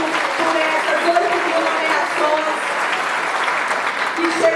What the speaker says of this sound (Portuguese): nós merecemos uma salva de palmas